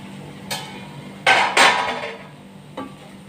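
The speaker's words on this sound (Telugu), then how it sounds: "ఈ దొండకాయ కూర అప్పుడప్పుడు తిప్పుతున్నా" A spoon scrapes and clanks in a pan of ivy gourd curry being stirred, with a few separate metallic knocks: one light tap, two louder scrapes close together, then a final clink.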